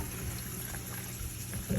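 Running water pours steadily over hominy being washed for posole in a home kitchen, a continuous close rushing splash with no voices.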